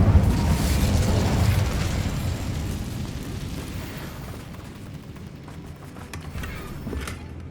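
Incendio fire spell in Hogwarts Legacy erupting as a loud, sustained roaring blast of flame and rumble that slowly fades over several seconds, with a few faint crackles near the end.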